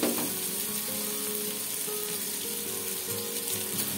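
Tomato frying in a pan gives a dense, continuous sizzle with a watery hiss, steady and close throughout, with faint stirring beneath.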